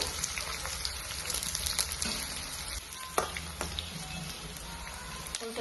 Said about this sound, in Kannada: ಅದು ಫ್ರೈ ಆಗ್ಯದ